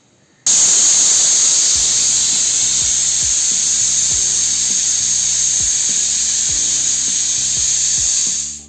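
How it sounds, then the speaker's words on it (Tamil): A pressure cooker of spinach and tamarind curry lets out a loud, sustained whistle and hiss of escaping steam, close by. A faint rhythmic clatter sounds underneath for about eight seconds before it cuts off. "ஒரு 2 விசில் வர மட்டும் வெயிட் பண்ணுவோம்."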